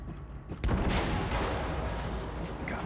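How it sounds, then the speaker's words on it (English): A grenade blast destroys a tank in the Wolfenstein II shooter game, a loud boom followed by a sustained rumbling roar of debris and fire. "Use a grenade to destroy the tank."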